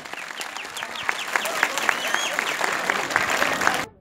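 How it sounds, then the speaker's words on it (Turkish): Applause at a village fair gathering in Gökçeağaç, Turkey, a crowd clapping steadily with some voices mixed in, cutting off abruptly near the end. "şöyle kuvvetli ama yürekten bir alkış istiyorum"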